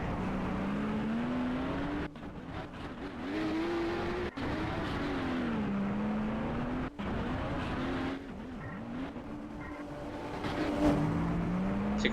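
Unlimited banger racing cars roar around the Standlake Arena, heard from inside one car as a loud continuous engine drone that rises and falls with revving, broken by a few sharp knocks of impact.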